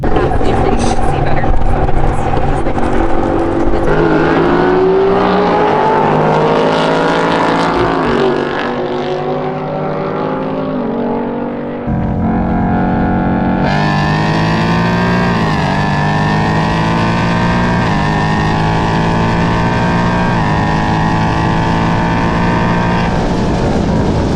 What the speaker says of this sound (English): next up, we're racing a stock first generation R8